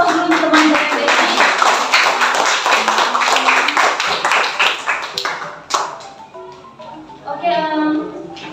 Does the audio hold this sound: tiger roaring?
no